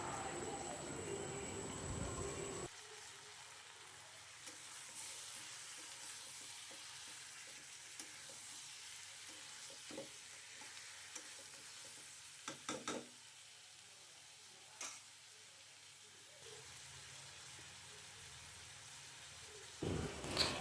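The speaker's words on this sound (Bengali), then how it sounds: "পেঁয়াজটা কিছুটা ভাজা হয়ে আসলে আমি এতে মুরগির মাংসটা দিয়ে নিলাম।" Chicken pieces and onions frying and being stirred in a pan for a cock chicken curry, with a steady sizzle and scattered scraping clicks of a spoon, fairly quiet throughout.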